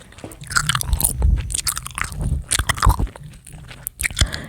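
Close, wet chewing of gum right at the microphone, an irregular series of smacking, squishing and clicking bites with no talk over them.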